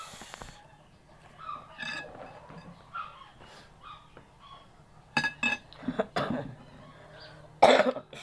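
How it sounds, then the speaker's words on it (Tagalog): A few sharp coughs close to the microphone, scattered among quiet clinks and rustling, the last cough loudest. "Excuse lang po guys kasi inuubo ako."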